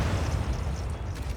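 Artillery barrage in the Stranded: Alien Dawn game at a military outpost, heard as a dense, continuous low rumble of blasts merging into one steady roar with no clear separate hits.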